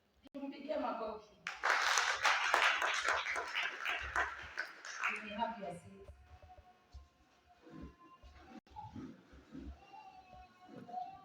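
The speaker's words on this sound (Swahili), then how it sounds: "Tumpigie makofi." A church congregation at a couples seminar bursts into loud clapping for several seconds after a preacher speaks, then the applause fades as talking resumes.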